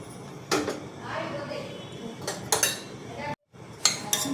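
A utensil scrapes and clinks against an aluminium AMC pot while stirring sweetcorn samosa filling, giving several sharp knocks amid softer scraping and brief quiet. A voice talks over the stirring.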